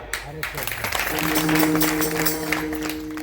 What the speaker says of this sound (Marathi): आता तुम्ही टाळ्या वाजल्या ना